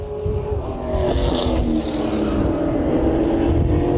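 Super late model race cars roar steadily at close range at Willow Springs International Raceway, a dense mechanical drone with rising and shifting pitch as several cars pass together.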